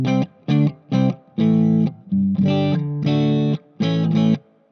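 An electric guitar plays through a Divitone Jam 20, a 20W portable smart amp, with the reverb mix and decay turned down. Loud, distorted chords strike in short rhythmic bursts and sustained stabs with little trailing echo. No voices.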